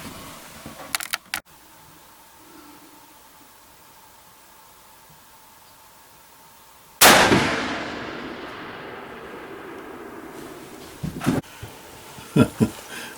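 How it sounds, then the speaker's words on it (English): A rifle fires a single loud, close shot that decays over about a second, with quieter clicks and handling noises before and after. "see if I can find something that this rascal's shooting"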